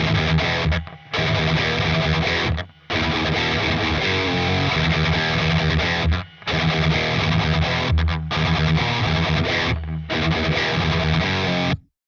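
Heavily distorted electric guitar through an Audiority Solidus VS8100 amp plugin, with a buzzing, chainsaw-like roar, played loud in chugging bursts separated by brief silent gaps.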